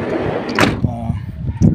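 A luxury van's door shuts with a solid thud midway, over a low background hum and faint talk.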